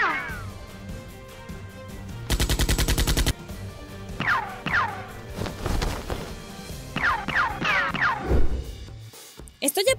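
Gunfire from a shooting scene at an abandoned fortress, with a loud, rapid burst of automatic fire around two seconds in and scattered sharp reports and crashes later, amid background music and voices.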